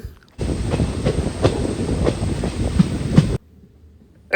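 Diesel locomotive at full throttle pushing a passenger train from the rear, heard as a steady loud rumble with rhythmic clickety-clack of wheels over rail joints and occasional squeaks, cutting off abruptly to quiet near the end.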